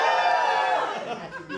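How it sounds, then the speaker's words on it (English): A comedy club audience cheers and whoops together at a live stand-up show, a dense and sustained roar of many voices that fades slightly toward the end. "Give me a cheer if you're having a good night so far"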